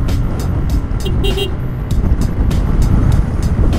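A Yamaha Aerox 155 scooter engine hums and revs up close during a test ride under ongoing wind noise, with a person talking over it.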